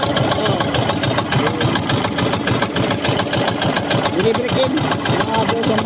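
Diesel boat engine idling steadily with a fast, even knocking pulse up close, while voices talk over it.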